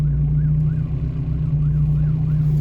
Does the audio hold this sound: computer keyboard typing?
no